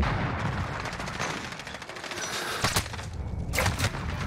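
Gunfire in Modern Warfare with the SP-R 208 sniper rifle in play, a dense loud barrage of rapid shots with a couple of heavier bursts near the end.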